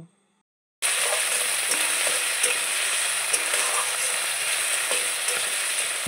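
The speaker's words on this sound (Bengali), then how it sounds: "আদা রসুন বাটাটাকেও আমি 1 মিনিটের মতো ভালো করে কষিয়ে নেব" Ginger-garlic paste fries in a pan with a bright, steady sizzle that starts abruptly after a moment of silence and continues close and even, with occasional soft stirring taps.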